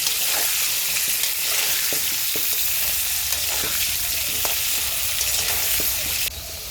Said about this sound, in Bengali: নুন হলুদ দিয়ে ভালো করে আলুটাকে লাল লাল করে ভেজে নেব